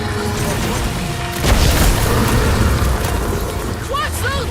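Bomb explosions in the Marvel's Guardians of the Galaxy video game, a heavy boom sweeping into a rumbling roar, dense battle noise continuing as characters talk.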